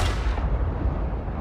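Ship cannons fire in a naval battle video game, a heavy booming blast that rumbles on and fades, loud and close with no voices over it.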